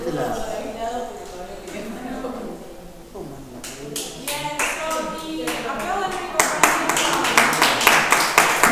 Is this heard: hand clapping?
yes